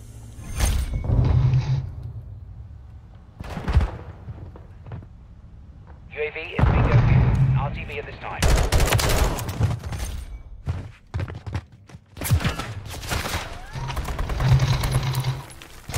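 Mortar strikes land in a Call of Duty Modern Warfare 3 hardcore team deathmatch, heavy booming impacts and bursts of gunfire scattered across the stretch, mixed with a player's talk.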